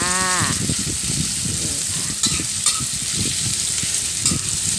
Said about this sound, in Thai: ผัดไปเรื่อยจนหมูสามชั้นสุกจ้า